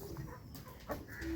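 Chickens on a farm give faint, scattered clucks and short squawks, distant and quiet against a soft background.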